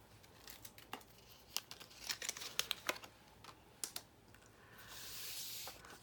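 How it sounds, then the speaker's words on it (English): Adhesive tape peeled off a tissue box cover craft and crumpled up, heard as a run of sharp crackling snaps and rustles close by, ending in a sustained papery crinkle. "Get rid of that tape."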